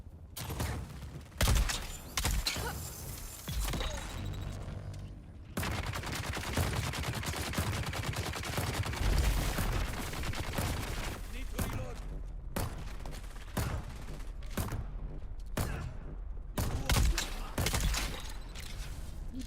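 Turret gunfire in the video game Dune Awakening: dense, sustained bursts of rapid automatic fire with brief gaps, loud and close throughout.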